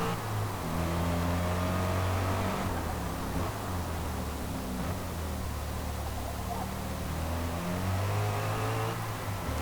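A 600-plus horsepower muscle car in Forza Motorsport drones with a steady, loud engine note, the pitch rising and falling as it revs and shifts, continuous throughout with no pauses.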